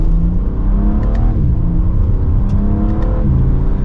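A BMW M3 Competition xDrive pulls hard from second gear, its engine note climbing in a loud, continuous rev with rising harmonics, heard from inside the car, with no talking.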